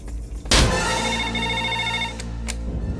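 A telephone rings in a Telugu film scene, a sharp electronic ring starting abruptly and sustaining with bright repeated tones, loud and close, no voices over it.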